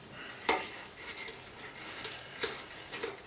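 A pot is stirred while cooking at home, a quiet scraping swirl punctuated by a few sharp spoon-on-pot clinks spaced irregularly across a few seconds.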